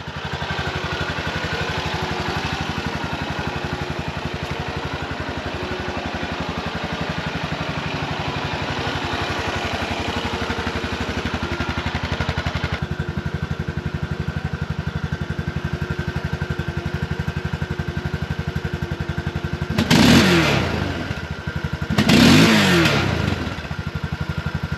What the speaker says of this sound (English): So I did do this same test with my Honda, and I'm going to show you guys that clip first